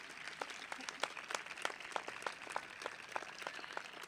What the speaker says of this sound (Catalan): aplaudiu, deixeu-vos anar, deixeu-vos anar